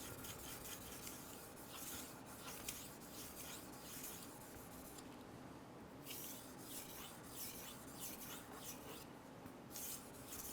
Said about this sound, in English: The second stone goes much, much, much faster because the heavy lifting, the heavy work, the heavy grinding has all been accomplished with the first stone.